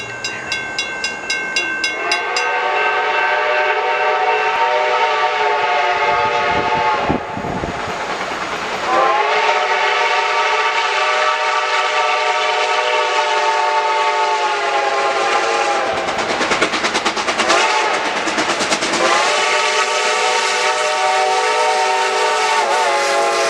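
Reading & Northern 2102 steam locomotive passing near a curve in a small Pennsylvania town at track speed: a long, loud, sustained whistle that rises and falls across multiple blasts over a heavy rolling rumble.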